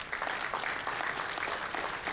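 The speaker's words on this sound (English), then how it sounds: "Give them another round of applause." Continuous audience applause at a powerlifting national meet fills a brief stretch, dense even clapping from a crowd with no clear voice over it.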